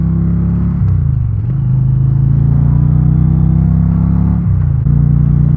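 A 2022 Indian Challenger Dark Horse cruiser motorcycle riding in sport mode, its engine drone steady and close with a couple of brief dips in revs as it shifts, no talking over it.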